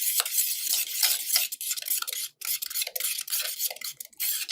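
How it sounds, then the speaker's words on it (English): A plastic spoon stirs baking soda into contact solution for slime, producing soft, rapid scraping and rubbing strokes in an irregular rhythm, close up and fairly quiet with brief pauses. "let's go ahead and use our plastic spoon to mix that up"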